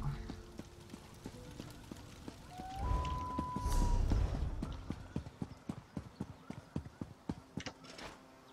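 Horse hooves in the Elder Scrolls Online game beat a steady clip-clop that speeds into a quick, regular trot toward the end. A brief whinny-like tone and a rushing swell come partway through.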